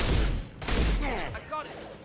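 Gunfire crackles in bursts during a firefight in Mass Effect 2 Legendary Edition, loud and dense, with shouting voices mixed into the battle noise.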